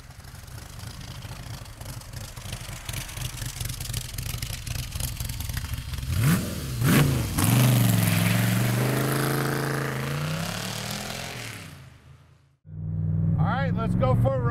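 A black Factory 5 Shelby Daytona replica with a big-horsepower engine rumbles at idle close by, then blips through a couple of sharp revs and a longer rising pull before dropping off and restarting its deep idle.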